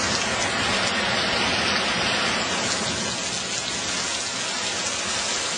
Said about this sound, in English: Still hailing right now, you can see it.